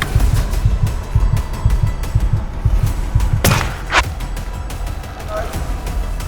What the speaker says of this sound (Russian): Второй выстрел свалил сильное животное.